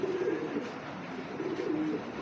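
Racing pigeons cooing softly nearby, with two low, rolling coos close together against quiet background hiss.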